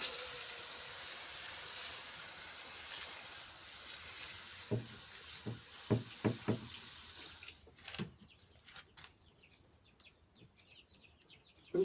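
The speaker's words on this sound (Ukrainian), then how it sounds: "перед штукатуркою я цеглу змочую водою" Water poured or splashed onto brickwork to wet it before plastering, in hot weather; a steady hissing wash of water with a few sharp splashes and drips near the middle, then quieter dripping at the end.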